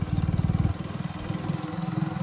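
A motorcycle engine idles and putters close by, a steady, rhythmic low chugging that is a little louder at first and then settles while the bike is turned around.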